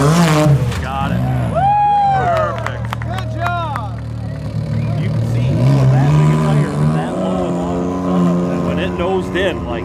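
Off-road race car engine at King of the Hammers, revving and accelerating as a steady loud roar that rises in pitch, with excited commentary talking over it much of the time.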